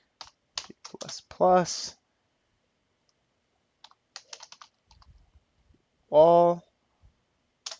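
Quick bursts of computer keyboard typing while entering C++ code, close and crisp in a few short flurries separated by pauses, with brief spoken words in between.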